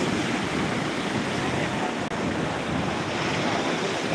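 Sea waves washing onto the shore near Shahrukh Khan's house, a continuous loud broadband rush of surf mixed with wind buffeting the microphone.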